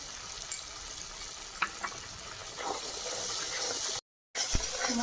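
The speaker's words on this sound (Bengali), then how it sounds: "মশলা কষা হয়ে গেছে মশলা থেকে তেল ছাড়তে শুরু করেছে" Spice paste sautés in oil for a Bengali fish curry, sizzling steadily while a spoon stirs and taps against the pan; the sound cuts out briefly near the end.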